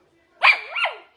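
A single dog gives one short, sharp bark with a rising and falling yelp-like tail, close and loud against a quiet background.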